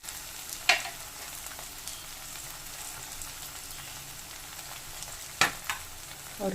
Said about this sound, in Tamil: ஒரு கேரட், கொஞ்சமாக குடமிளகா காயெல்லாம் சேர்த்து நல்லா வதங்கட்டும்.